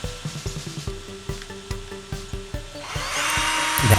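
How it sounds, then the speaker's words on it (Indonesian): A NORITA NRT PRO DC-330 cordless drill, just repaired after failing to spin, runs in short repeated bursts at close range, each quick whir starting and stopping in a steady rhythm, then a longer, louder continuous spin with a rising hissy whine at the end. "Jika sudah bor ini berputar dengan normal, baru kita lakukan pemasangan baut dari covernya."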